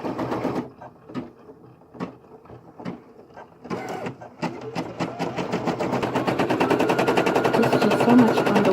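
An embroidery machine stitching a picture from a photo runs with rapid mechanical needle chatter, starting in short separated bursts and then settling into a steady, loud continuous hammering that builds slightly in intensity.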